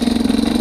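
A 2017 Yamaha YZ250X motorcycle engine idling at low RPM around 1,320, a loud close steady throbbing hum with a fast even pulse.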